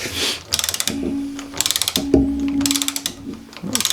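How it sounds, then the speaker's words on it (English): A torque wrench ratchets in quick clicking bursts while tightening a fastener on Ohlins TTX 36 suspension, with several close, loud runs of rapid pawl clicks separated by short pauses and occasional metallic squeaks. "tighten it down to where it's supposed to be. If I can figure out how to use the torque wrench"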